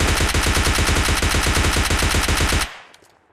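Rapid automatic gunfire in PUBG Lite, a loud sustained burst of evenly spaced shots lasting over two seconds before cutting off abruptly into a faint tail.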